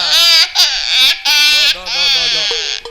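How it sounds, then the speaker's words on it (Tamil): Newborn baby crying loudly in long, wailing bursts with brief breaths between, close and continuous, no other sounds. "குழந்தை அப்படி அழுகுது."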